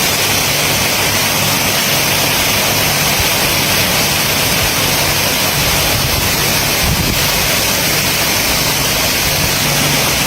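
Artificial waterfall in a Thai garden, a loud, continuous rushing roar of falling water that is close and steady throughout, with no talk.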